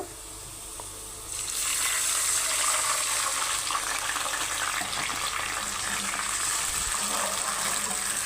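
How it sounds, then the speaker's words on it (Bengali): A little water is poured onto browned onions frying in a pan, and after a quiet sizzle the sound jumps into a loud, sustained hissing steam burst that carries on to the end. "সামান্য পানি দিয়ে দেব"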